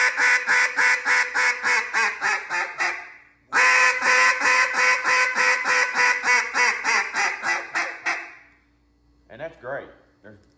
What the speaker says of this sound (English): You can kind of do a gradual hail call that comes down